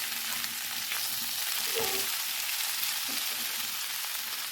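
Potatoes, cauliflower and chopped tomatoes with salt sizzle steadily in a pan for dry aloo gobi, with a brief stir or toss of the vegetables midway; close, continuous frying with no talk.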